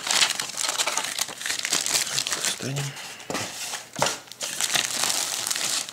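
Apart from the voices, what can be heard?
plastic bags of model kit parts being opened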